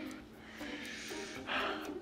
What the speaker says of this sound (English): Why are you doing all that breathing?